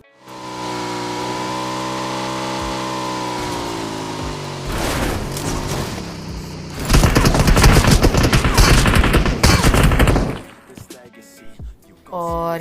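Rapid gunfire bursts in a PUBG match at the school apartments, loud and dense, following a stretch of steady tonal game sound and ending with a few sharp shots.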